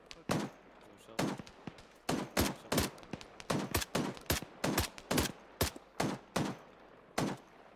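Suppressive gunfire in the ARMA 3 military game, a long run of sharp, loud shots in irregular single and double bursts, near and dominant, with a faint voice under them.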